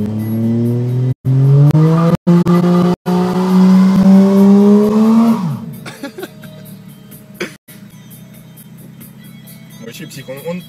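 A rear-wheel-drive Tourer V car on freshly fitted tires: the engine revs loudly, rising in pitch, then the wheels spin with a harsh, drawn-out tire squeal, while people talk nearby.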